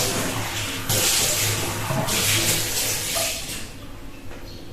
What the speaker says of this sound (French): je vais rajouter un peu d'eau